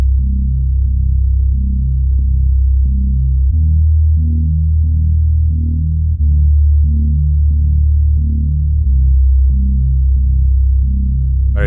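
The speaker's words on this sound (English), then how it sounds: "The next tip is to use a menacing pulsing bass." Menacing pulsing sub bass from a Porphyro Hybrid Abstract Sub 2 preset for horror music, a deep throbbing low drone shifting pitch every few seconds, loud and sustained with no voices.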